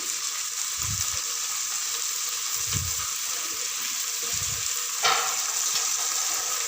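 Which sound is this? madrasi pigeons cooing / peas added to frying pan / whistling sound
peas added to frying pan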